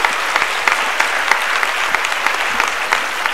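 An audience at a motivational speech in Nagpur claps steadily and densely for a few seconds, the dry, crackling hand claps filling the space without any talk.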